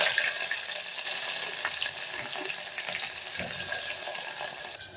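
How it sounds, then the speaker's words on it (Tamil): Two medium onions frying in oil with crackling curry leaves, a soft, steady sizzle close by with faint stirring scrapes, fairly quiet and without talk. "கருவேப்பிலை பொரிஞ்சு 2 மீடியம் சைஸ் வெங்காயத்தை போட்டுக்கலாம்"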